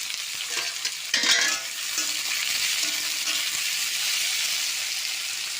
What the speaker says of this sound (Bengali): পেঁয়াজ আর টমেটো একসঙ্গে ভেজে নেব।